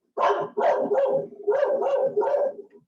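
A pet dog barks loudly and close up in a quick series of about six sharp barks, some running together, with no other sound around them.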